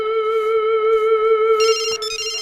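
A loud, sustained electronic ringtone announcing an incoming phone call plays steadily, and a brighter, higher-pitched ringing pattern joins it partway through.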